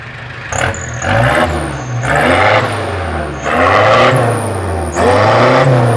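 A Mitsubishi Strada 2.8 diesel pickup engine revs repeatedly in bursts, the exhaust rumbling and rising in pitch before dropping back to idle between blips, close by.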